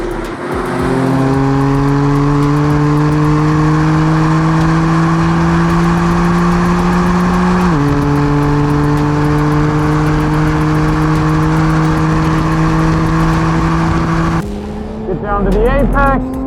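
BMW F80 M3 accelerating hard on a race track, a loud sustained engine note climbing steadily through the revs with one brief shift dip, heard from inside the car, a short burst of other sound at the end.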